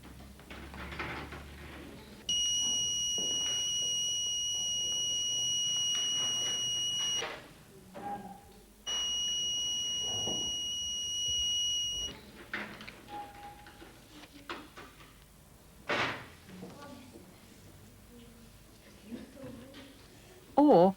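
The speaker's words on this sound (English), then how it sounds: "The alarm should sound if they press this test button." Electronic smoke alarm in a kitchen control system, triggered by pressing its test button: two loud, steady high-pitched beeping tones lasting about five and three seconds, separated by a short gap, with voices talking around them.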